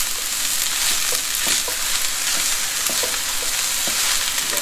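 Chow fun ingredients stir-fry in a wok with a loud, constant sizzle, with sharp clanks and scrapes of the utensil against the metal every second or so.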